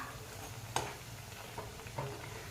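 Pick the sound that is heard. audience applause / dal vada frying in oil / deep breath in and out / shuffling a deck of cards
dal vada frying in oil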